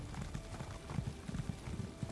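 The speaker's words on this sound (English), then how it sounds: "I thought I saw someone going past, running on top of their horse there." Horse hooves galloping in the Elder Scrolls Online video game, a quick, faint run of clip-clop beats in steady rhythm.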